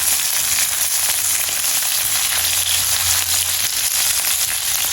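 Onions sizzle steadily in a hot pan of oil during home cooking in Jaffna, a dense, even crackle that holds close and constant for the whole stretch with no talking.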